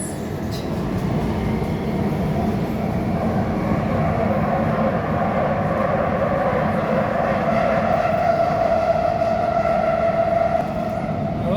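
Inside a moving metro train in Saudi Arabia, a steady loud rumble and rushing roar continue without a break, with a faint rising whine partway through.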